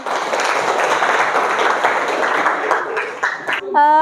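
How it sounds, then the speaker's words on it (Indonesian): Students in a vocational high school accounting class applaud after a group presentation, a dense steady patter of clapping that fades near the end as tonal voices or sounds break in. "Tepuk tangan."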